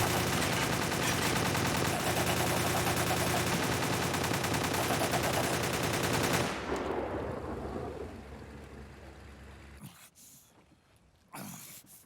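Dense gunfire and a chaotic battle din from the video game Metal Gear Solid 4, loud and nearly continuous for about six seconds, then fading into rumbling aftermath with a few sharp bursts near the end.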